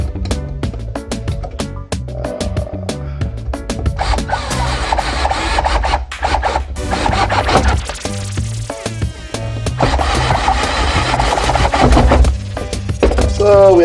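A power drill drives screws into a replacement power cord end, giving continuous loud whirring and grinding with brief stops and restarts, close up.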